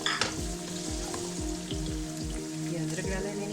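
Garlic and ginger frying in oil in a pan for chicken karahi: a bright crackling sizzle with repeated low knocks of a spoon stirring in a steady rhythm, up close and without talk.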